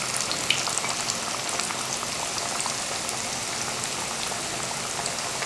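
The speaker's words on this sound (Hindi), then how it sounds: "बस थोड़ा सा फ्राई करना है, ज़्यादा नहीं कि इसका कलर भी चेंज हो जाए" French fries half-frying in hot oil give a steady, dense bubbling crackle that stays close and even throughout, with no voices.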